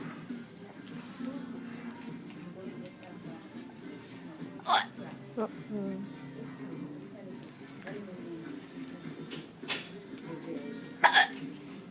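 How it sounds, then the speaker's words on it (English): Sharp, sudden hiccups, a few spaced apart over a quiet room, with people talking softly in between. "Let's see if we can't solve those hiccups right away"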